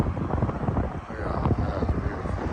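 Wind buffets the microphone during a motorcycle ride on Hawaii's Big Island, a loud, gusty low roar that rises and falls throughout.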